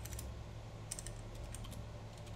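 Rapid, steady typing on a computer keyboard during a Windows VBA programming lesson, soft and continuous clicking for a couple of seconds with no voice over it.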